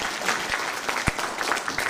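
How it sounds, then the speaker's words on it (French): Brief burst of audience clapping at a vocal group's November festival concert in Levroux, with a few sharper individual claps standing out within a short, steady spatter. "Voilà, on applaudit Lidwin, le grand chef des Cuyers."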